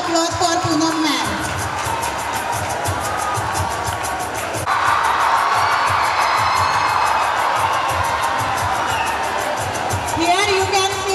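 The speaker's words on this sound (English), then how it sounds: "Here you can see the noise of the students confirms the popularity of the teacher" Students at an award ceremony cheer, whoop and shout loudly for a teacher of the month, a sustained crowd roar that swells and carries on for several seconds with excited high-pitched yells.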